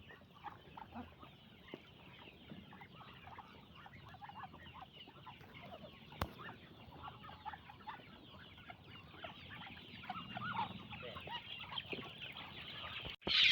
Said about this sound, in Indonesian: Nanti kita kasih makan ayam pakai ini juga guys.